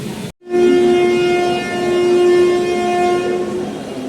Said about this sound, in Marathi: 10 मिनिटाच्या डिलेनं आपली ट्रेन विरार प्लॅटफॉर्मवरतून रवाना होते